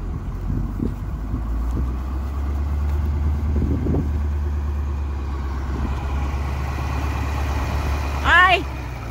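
A canola-hauling truck idles on a farm, its steady low engine rumble running throughout under nearby talk, with a brief chirping whine near the end.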